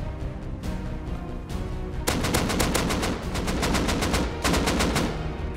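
Rapid bursts of automatic gunfire in the survival game Rust, loud and close, with sharp repeated shots clustering into sustained volleys and brief gaps between them.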